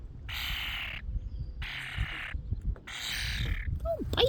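A bird squawks up close, three loud, harsh, raspy calls in steady succession with short gaps between them, and a person's voice comes in briefly near the end.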